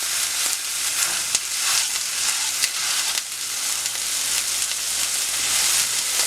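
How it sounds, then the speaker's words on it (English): Salmon burgers fry in a Code Red frying pan, giving a loud, continuous sizzle and crackle with scattered sharp pops throughout. "Just frying it up on both sides"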